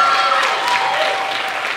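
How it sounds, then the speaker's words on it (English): An audience at a college athletics awards ceremony claps loudly and continuously, a dense sustained wash of applause that barely fades over its short span. "it's okay to clap, you're good."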